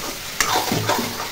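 Potato and pointed gourd curry sizzling in a pan, a brief close crackle with scraping stirs of a spatula.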